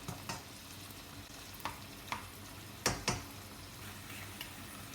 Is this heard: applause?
no